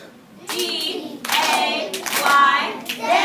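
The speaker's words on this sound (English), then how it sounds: "So we're going to clap it out and then put our hands up" Schoolchildren in a classroom clap in short rhythmic bursts, beating out the syllables of a word, close and moderately loud, with the teacher's voice between claps.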